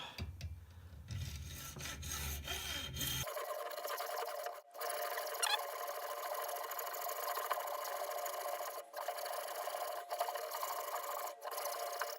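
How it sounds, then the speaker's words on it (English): A trusty old hacksaw cuts through a brass .300 Win Mag rifle cartridge case clamped in a vise, giving a steady, continuous rasping scrape that starts a few seconds in and runs unbroken to the end, close and with no voices. "Now, using our trusty old hacksaw."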